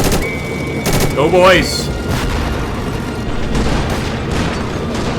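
Gunfire and booming blasts from a 1935 Second Italo-Ethiopian War battle in The Interwar Mod rumble under a man's speech, with a whistling shell sweep early on and repeated distant shots throughout.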